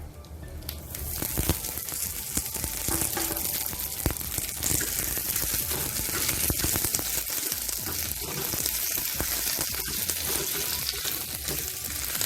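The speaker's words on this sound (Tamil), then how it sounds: "எடுத்து வச்ச காஞ்ச மிளகாய் சேர்த்துக்கிறேன்" Dried red chillies and curry leaves sizzle loudly in hot oil for a tempering, a dense crackling hiss that bursts in at the start and holds steady throughout.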